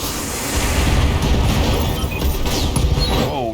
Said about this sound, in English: Oh, ammo explosions that got him.